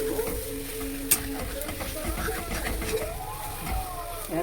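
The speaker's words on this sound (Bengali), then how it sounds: "নেড়ে নিলাম চিনি দিয়ে।" Spiced potatoes with sugar stirred in a pan, giving soft scraping and light sizzle with one sharp clink, while faint background sounds carry on.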